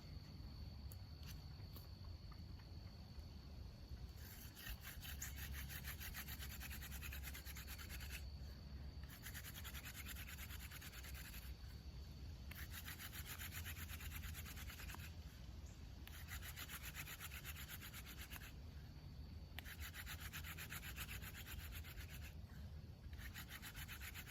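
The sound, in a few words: willow hand drill spinning for friction fire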